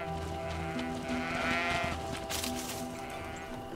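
Sheep bleating in the video game GreedFall, several wavering bleats close by over a steady background of ambient game sound, with no talking.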